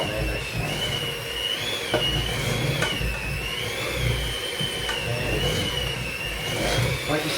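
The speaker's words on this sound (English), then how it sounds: "a little mix around with a mixer, just to combine it all" An electric kitchen mixer runs steadily while a cake batter is mixed for home baking, giving a continuous whirring motor drone with a slightly wavering pitch and a few faint clinks against the bowl.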